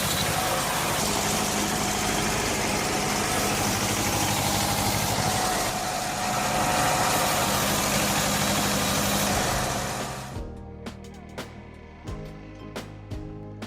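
A homemade high-speed firewood processing machine cutting and splitting logs runs as a loud, dense, continuous engine-like roar that drops off abruptly near the end, leaving scattered knocks and clunks.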